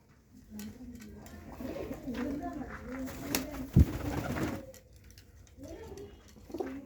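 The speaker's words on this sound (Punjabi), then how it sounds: "25 ਤੋਂ 30 ਕਬੂਤਰ ਨੇ ਬਾਈ ਇਹ ਆਏ ਹੋਏ ਆਪਣੇ ਕੋਲ" Pigeons coo nearby in low, throaty rolling calls, several overlapping, with a brief sharp knock partway through.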